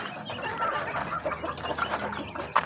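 Chickens kept on a family's backyard farm cluck and murmur close by, a busy layer of short, overlapping calls from several birds with one sharper squawk near the end.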